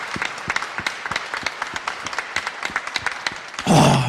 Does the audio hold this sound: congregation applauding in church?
yes